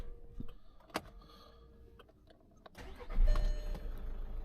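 A car engine with warning lights showing and very low fuel cranks with scattered ticks, then catches and rises into a louder, steady running rumble near the end.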